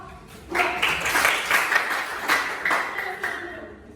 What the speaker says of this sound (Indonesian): Kalau tidak ada, bisa berikan aplaus untuk kelompok